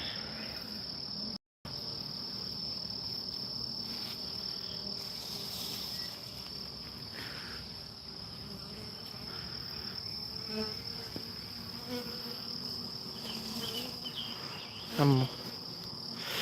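Buzzing insects from a honeybee swarm recently moved into a hive with a lemongrass bait bag; a steady high drone runs throughout with no speech.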